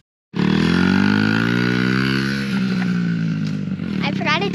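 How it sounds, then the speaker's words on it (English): A motorcycle engine starts up in a field and runs loud and close, a steady throbbing idle that wavers slightly, with a voice speaking briefly near the end. "That's a motorcycle."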